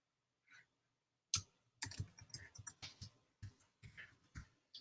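Typing on a computer keyboard to enter a project title, a quiet close run of irregular key clicks after a brief pause, with no voice.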